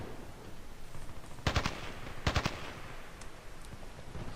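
Assault rifle fire in Battlefield Play4free, heard as two short bursts of several rapid shots each, somewhat distant and faint over a steady wash of game background noise.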